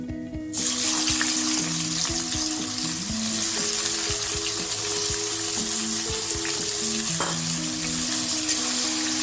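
Onions dropped into hot oil with bay leaves for a fish-head cabbage curry: after a brief quiet start, a strong, continuous sizzle with stirring clatter and crackle runs to the end.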